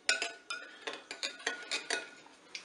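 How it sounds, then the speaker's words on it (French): A spoon stirs a gratin mixture in a dish, giving about nine rhythmic scraping and clinking strokes at a steady pace, close up and fairly quiet. "Je vais maintenant mélanger bien sûr tout ça."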